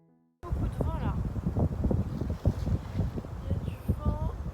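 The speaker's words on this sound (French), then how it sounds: "Beaucoup de vent là." Strong wind buffets the microphone outdoors on a street in Seoul, a steady loud rumble throughout with a voice speaking over it.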